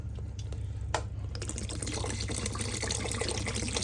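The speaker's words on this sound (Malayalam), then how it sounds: "ഇനി നമുക്കിതിലേക്ക് ആവശ്യത്തിനുള്ള വെള്ളം കൂടി ചേർത്ത് കൊടുക്കാം" Water added to a simmering Kerala-style white tuna fish curry, starting with faint drips and then settling into a steady, close pouring and bubbling sound.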